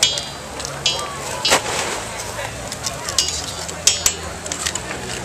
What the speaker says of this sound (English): Meat and vegetables on the fire.